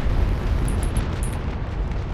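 Naval Action cannon fire during a Spain versus France port battle off Scarborough: a continuous low, rumbling roar of distant broadside guns, steady and dense throughout with no speech.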